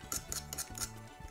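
An egg being mixed with a pepper blend and salt in a small plate, quiet, quick light clinks and taps of a utensil against the plate in an irregular rhythm, close and faint.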